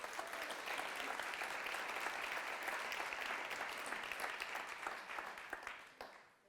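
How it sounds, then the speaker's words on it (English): A room full of conference attendees claps together in a sustained round of applause, steady and dense throughout, then tapering off at the end. "So give yourself a round of applause."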